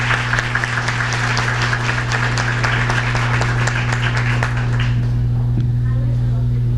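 Loud, sustained applause from an audience at a Brazilian public hearing, welcoming visiting school students and staff, with a steady electrical hum beneath it; the clapping fades out after about five seconds.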